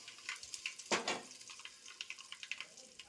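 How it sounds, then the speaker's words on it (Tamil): Ingredients fry in hot oil inside a pressure cooker for chicken biryani, a close, soft crackle of small pops and sizzles with one louder splash of sound near the start. "எல்லாம் போட்டு எல்லாம் பொரிஞ்சிட்ருக்குது"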